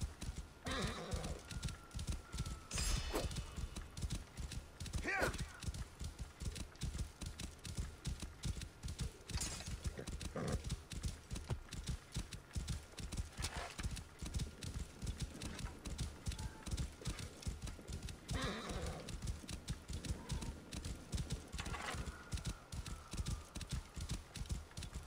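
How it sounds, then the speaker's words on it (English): Horse hooves clip-clop at a steady gallop in Assassin's Creed Origins, with occasional snorts and whinnies over a constant game ambience. "Just running on a horse."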